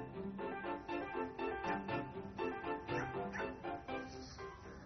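A dog barks repeatedly in a quick, rhythmic series of yapping woofs while chasing a heavy, overweight bird that cannot fly, the barks fairly close and continuous.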